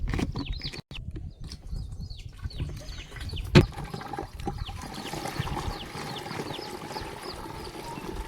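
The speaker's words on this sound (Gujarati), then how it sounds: "સૌ પ્રથમ આપણે પાણી નાખશું" Water is poured into a pesticide spray tank outdoors, a gurgling trickle and splash with a sharp knock partway through and birds chirping in the background.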